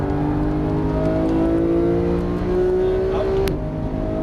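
Porsche GT3 engine on a race track, droning steadily under throttle with a rising harmonic whine, loud and close throughout, with a brief higher-pitched burst near the end.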